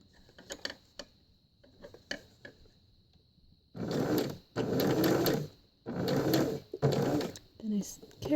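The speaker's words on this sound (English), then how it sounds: "Then I carefully hand wheel right up to that first pin and backstitch." A home sewing machine stitches fabric and backstitches in several short, loud bursts of rapid mechanical whirring, separated by pauses with soft clicks and handling noise.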